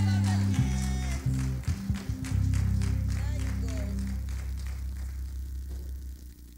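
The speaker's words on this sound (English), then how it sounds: "Clap for them, please." At an Easter church service, an audience claps as children come up to the front. The scattered clapping sits under a loud, booming voice and a low rumbling hum before it fades away.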